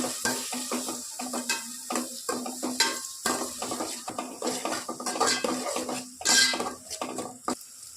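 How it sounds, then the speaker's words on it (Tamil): Onions, curry leaves and two dried red chillies sauté in a pan, with steady sizzling under repeated scrapes and clinks of a metal spoon stirring against the pan. "கருவேப்பிலை, 2 காய்ந்த மிளகாய் போட்டுக்கலாங்க. இது நல்லா வதக்கிக்கலாம். வெங்காயம் நல்லா வதங்கி வரட்டும்."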